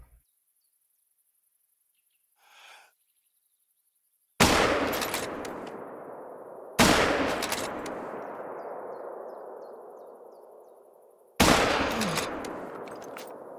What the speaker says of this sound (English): I'm literally shooting, trying to kill all of them with the fucking stupidest, worst fucking sniper ever